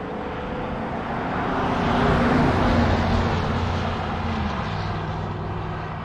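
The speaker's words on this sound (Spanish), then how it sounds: "viene un carro." A car passes along a quiet road beside sequoia trees in Sequoia National Park, a broad swelling rush that rises to a peak mid-way and slowly fades.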